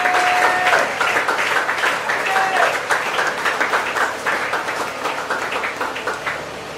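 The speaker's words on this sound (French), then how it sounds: "pendant qu'il s'approche, on acclame le Seigneur" Church congregation applauding and cheering during a Sunday worship service, a dense sustained wash of clapping from a large crowd, loud and continuous throughout with a few voices rising above it.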